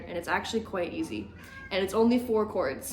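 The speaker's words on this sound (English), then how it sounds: "Excuse my cat in the background." A pet cat meows a few times in the background of a beginner guitar lesson, short mid-pitched cries mixed in with a person talking close to the microphone.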